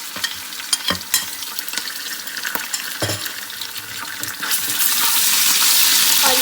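Onions frying with garlic ginger paste in a pan for halwa puri chana, stirred by hand with steady hissing sizzle and occasional scraping clinks of the spoon, rising to a louder, denser sizzle near the end.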